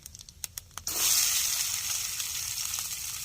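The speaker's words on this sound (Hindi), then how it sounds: "और साथ में हरी मिर्चा, और इनको चला के कर लेते हैं फ्राई।" Cumin, fennel, chopped onion and green chilli hit hot oil after a few light clicks, bursting into a loud, steady sizzle of frying that continues close up without speech.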